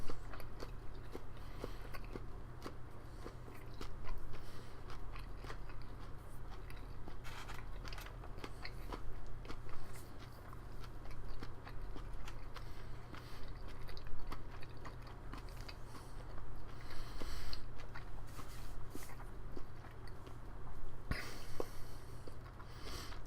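Fried prawns eaten whole, shell and all, with steady close-up chewing and crunching, repeated bites crackling over a low constant hum for the full length.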